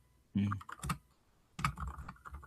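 Two quick bursts of typing on a computer keyboard, crisp close clicks clustered in short runs separated by a brief pause, with no voices.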